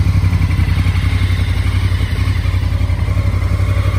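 Honda Africa Twin Adventure Sports motorcycle, fitted with spotlights and engine bars, idles steadily with a deep, even rumble and light mechanical clatter, close and continuous with no talk.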